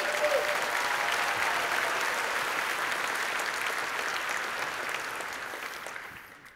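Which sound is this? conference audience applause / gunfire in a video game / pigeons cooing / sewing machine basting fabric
conference audience applause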